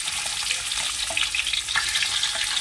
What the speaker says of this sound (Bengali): মাংসটা এই চিকেনটাকে একটু আগে ভেজে নেব।